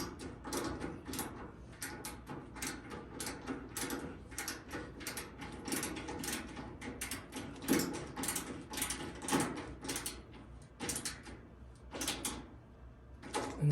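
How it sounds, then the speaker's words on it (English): A driver tightens a bolt on a washing machine tub's shock absorber, making a quiet series of rapid ratcheting clicks in bursts, close and faint, with no talk. "Then I just got to get my wrench on it. I mean my driver."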